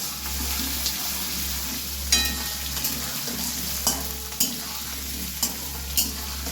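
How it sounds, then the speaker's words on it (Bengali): Potatoes and onions fry together in a pan with a soft, continuous sizzle, while a spatula scrapes and taps at irregular intervals, close by and with no talk. "আলু পেঁয়াজ একসাথে ভেজে নেব।"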